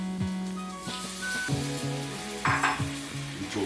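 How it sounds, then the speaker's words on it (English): Sausage and vegetables fry in a hot pan for penne, giving a steady sizzle broken by scrapes and clinks as the food is stirred, close and fairly quiet, with no voices. "We're gonna turn up our pan here."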